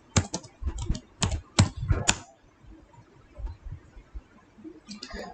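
Rapid typing on a computer keyboard, bursts of crisp close key clicks for about two seconds, then quiet with faint clicks near the end.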